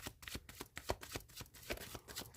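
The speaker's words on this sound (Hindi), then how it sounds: "last shuffle" Tarot cards shuffled by hand in a quick series of crisp riffling slaps and flutters, close and fairly soft, with no talking.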